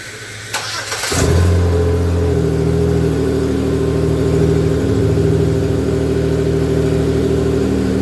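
A Pontiac G6 engine cranks and starts, then settles into a loud, steady idle with a slight rev to warm up, heard close and alone without any voices.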